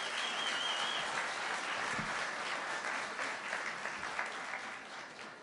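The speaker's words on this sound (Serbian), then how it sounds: "Molimo vas da ga još jednom pozdravimo aplauzom." Sustained audience applause for violinist Đorđe Kostić after his orchestra-accompanied performance at a Šumadija folk evening, a dense even roar of many hands holding steady throughout, loud and close, with no voices over it.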